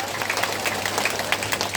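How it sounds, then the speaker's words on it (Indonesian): An audience at a spiritual talk gives a loud, dense burst of applause, steady clapping that fills the whole stretch with no voices over it. "Nah, tepuk tangan."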